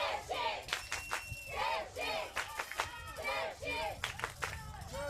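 Grandstand crowd at an ultimate frisbee game roars and cheers in repeated surging waves with shouts and whoops, loud and sustained through the whole stretch.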